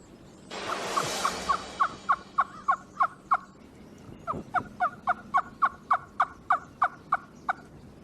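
Rapid series of sharp, rhythmic gobbles imitating a wild turkey gobbler's mating call on a tube caller, two bursts of repeated clucking notes, fairly close and clear, with a brief rustling noise near the start.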